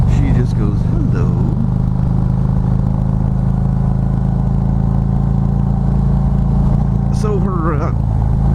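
Harley-Davidson Street Glide engine running at steady low throttle, a loud continuous rumbling drone under someone talking at the start and end of the ride.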